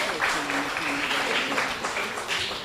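An audience at a primary school Kweyol spelling bee applauds as the moderator is welcomed, a dense, moderately loud clapping sustained for a couple of seconds.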